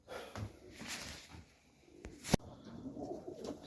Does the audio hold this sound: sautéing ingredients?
no